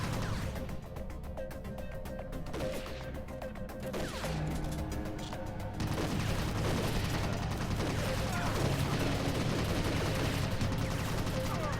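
Gunfire in the Army Men: Sarge's War video game, a steady clatter of shots and bursts running throughout at moderate loudness, with a faint voice now and then.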